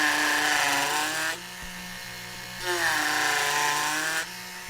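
A rotary tool gouges into wood while shaping a Master Sword prop, giving two loud, harsh bursts of high-pitched grinding, each about a second and a half long, separated by a quieter steady motor hum.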